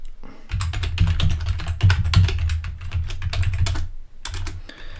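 Rapid clattering keystrokes on a computer keyboard while logging in to a Linux host through PuTTY. The bursts are close and continuous, with a brief pause near the end before typing resumes.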